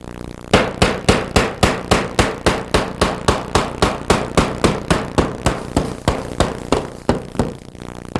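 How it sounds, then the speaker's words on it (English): Openings are hammered out of mesh backer board for bathroom tile work, a steady run of about two dozen loud, sharp hammer blows at an even quick pace, close up and alone with no talking. "It's just a matter of flipping it over once again to the front side and hammering out our openings."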